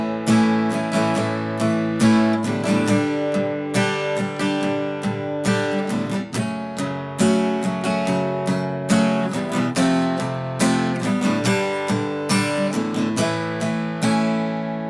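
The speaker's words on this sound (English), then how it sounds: "And for the second guitar solo, it starts to get a little edgier." Electric guitar plays the edgy second solo from a song: a dense, sustained stream of picked notes and chord stabs, loud and close, with no voices.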